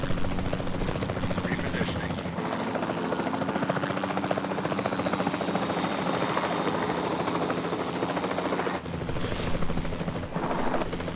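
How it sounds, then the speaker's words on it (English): A capture team helicopter from Jurassic World Evolution 2 flies with a loud, steady rotor drone and engine whine that runs throughout, close and continuous. "the sensible thing is to take a capture team helicopter"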